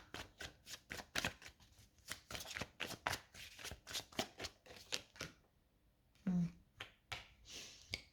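Tarot cards being shuffled by hand in a rapid run of crisp riffling flicks, fairly close, with a brief soft thump near the end and no talking.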